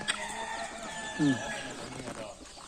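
Bantam chickens at a forest temple in Thailand give a short cluck or squawk amid faint background noise, with someone talking nearby.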